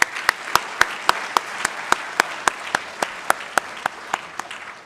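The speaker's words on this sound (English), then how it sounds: "One more round of applause." Room of people applauding the Alpine team, dense steady clapping over about five seconds with a few sharp louder claps standing out rhythmically.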